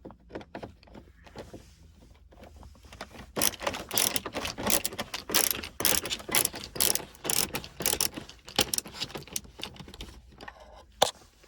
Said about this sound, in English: These can be a bit stubborn, these screws, but they will come off eventually.